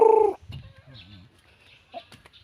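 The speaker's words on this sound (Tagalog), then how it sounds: "Ang mga manok guys sa kapatid ko." A loud squawk from a hen opens, followed by soft, scattered clucks and faint chicken calls nearby, mostly quiet otherwise.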